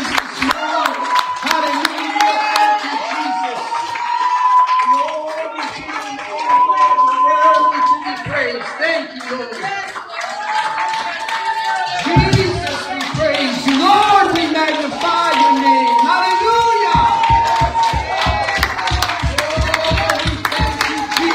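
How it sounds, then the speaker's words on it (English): A church congregation standing and clapping hands in praise during a Sunday service, rhythmic communal clapping mixed with music, voices and exclamations throughout, loud and sustained. "Let's stand and let's give the Lord a hand clap of praise."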